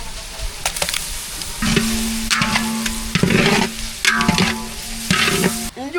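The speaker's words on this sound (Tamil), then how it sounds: "பிரியாணிக்கு வெங்காயம் தக்காளி எல்லாம் நல்லா வதங்கிட்டு இப்போ அதோட இஞ்சி பூண்டு சேர்த்துக்கலாம்" Onion, tomato, ginger and garlic sizzle in a pan for biryani while a spoon stirs and scrapes, sending repeated close strokes over a constant frying hiss.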